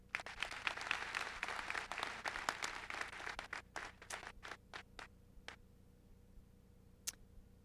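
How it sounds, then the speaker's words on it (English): A crowd at a university undergraduate commencement claps for the faculty, dense applause for about three seconds that thins into scattered individual claps and a few late, isolated hand claps at a distance. "So to our faculty, a round of applause."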